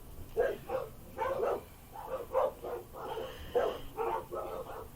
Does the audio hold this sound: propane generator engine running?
no